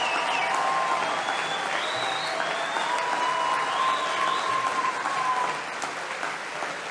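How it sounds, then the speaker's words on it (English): A conference crowd gives a standing ovation: continuous, heavy applause from a large audience, with faint whistles and voices rising above the steady roar. "They're giving him a standing ovation."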